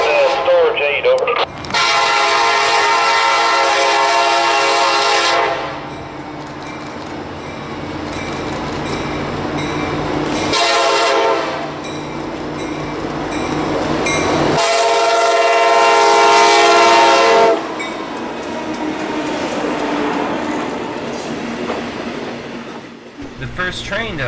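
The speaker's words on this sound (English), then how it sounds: "The first train that I caught in these limited hours of railfanning this weekend" A freight train rumbles past close by in Central Florida, sounding its horn in several long, loud blasts over the steady roar and clatter of the wheels.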